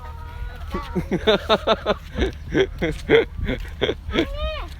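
Several chickens cluck loudly and close by in a rapid, overlapping series, with higher rising squawks toward the end over a low background rumble.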